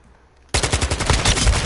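Rapid burst of video game gunfire kicking in suddenly after a quiet moment, a loud, dense run of closely spaced shots rattling on without pause.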